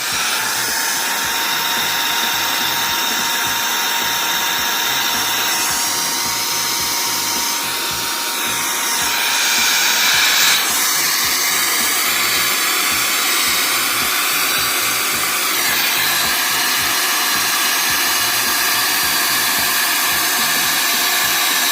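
A Dnipro-M VC-10BC cordless vacuum cleaner runs in blower mode to inflate an item, giving a loud, steady high-pitched airflow whine that holds throughout with slight shifts in tone and no talking.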